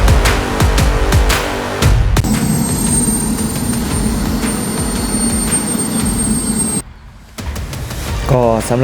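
A radio-controlled model F-16 jet at a small RC airfield in Thailand roars with a loud, steady turbine whine and broadband rush that briefly drops away near the end before returning.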